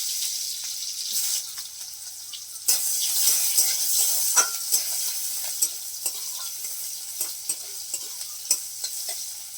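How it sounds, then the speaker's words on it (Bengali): Onion fries in a hot kadai, giving a continuous high sizzle broken by repeated sharp scrapes and knocks of a stirring spatula against the pan, close and without talk. "পেঁয়াজটাকে আমি এই যে ভেজে দিচ্ছি"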